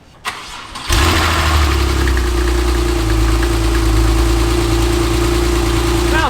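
A crashed Porsche 911 Turbo engine cranks briefly after a soft click, then catches and settles into a loud, steady idle that runs to the end, close and unaccompanied by talk.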